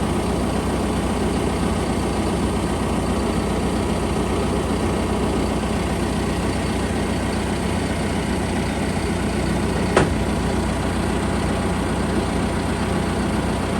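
A Peterbilt truck engine idles steadily and close by with a constant low rumble, and near the middle a short sharp burst of air marks the air bags being dropped.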